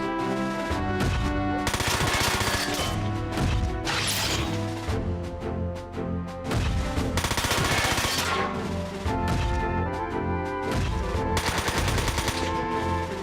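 Mech gunfire in Front Mission 4 rattles in dense, rapid bursts with repeated heavy impacts, loud and continuous throughout, layered over game music.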